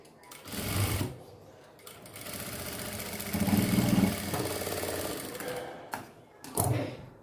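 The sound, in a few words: sewing machine stitching a doll dress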